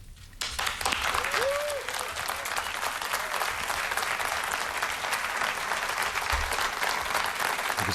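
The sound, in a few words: sustained audience applause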